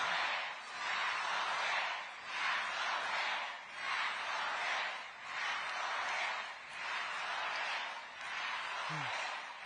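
Rally crowd in Queens cheering and chanting in steady rhythmic waves, five or six swelling bursts of massed voices at an even pace, moderately distant and sustained throughout.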